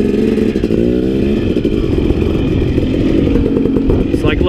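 KTM 250XC and Honda CRF 250X dirt bikes ride through snow on a mountain trail in April. Close, loud, steady engine drone with clattering over it and a voice on top.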